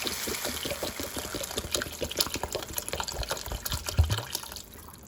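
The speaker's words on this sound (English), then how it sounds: "To this I am going to add about 1 liter of water." About a liter of water poured into a saucepan of vegetables browning with soya sauce, a close irregular splashing and bubbling pour that fades out near the end.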